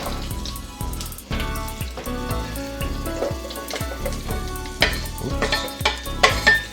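Onions go into browned butter for Danish beef hearts in cream sauce, a close sizzle with a rhythmic series of spoon scrapes as they are stirred round the pan, the frying continuous underneath.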